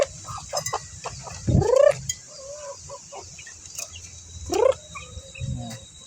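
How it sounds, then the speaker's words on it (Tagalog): Several caged chickens in a small home garden give curved, rising squawks and clucks in two main bursts, mid-distance and moderately loud, over a steady insect-like hiss with scattered softer clucks between. "Ito yung manok namin."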